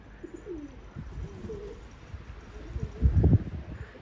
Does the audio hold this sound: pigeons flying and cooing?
yes